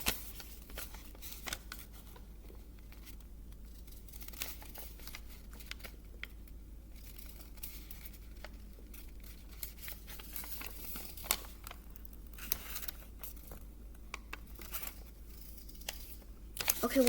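Sheet of paper pinched and creased along pencil marks while folding an origami tessellation, faint crisp crinkles and soft taps scattered irregularly over a quiet background, close by with no talking.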